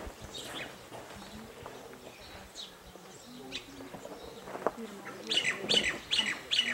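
Birds chirp and coo outdoors on Mauna Kea, Hawaii, with a cluster of sharp, high tweets growing clearer near the end over soft background ambience.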